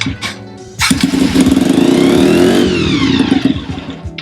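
A Bullit 50 Hero, a small light moped, fires up and its little engine runs close by with a buzzy, slightly rising drone for a few seconds.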